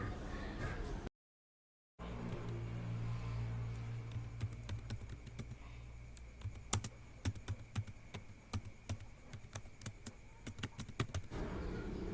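Close typing on a computer keyboard, a fast irregular patter of sharp key clicks following a brief silent gap, steady and moderately quiet over faint background hum.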